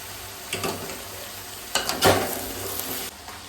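Vegetables being stirred with a little turmeric in a pan for Hyderabadi-style mixed veg dum biryani, a soft sizzle with a few scraping stir strokes, moderately close and steady, no talk.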